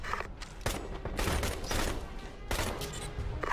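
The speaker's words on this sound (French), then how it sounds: "Je tire." Gunfire from a squad shooting in the video game Ghost Recon Advanced Warfighter 2, a fusillade of sharp shots with several loud bursts over a constant battle din.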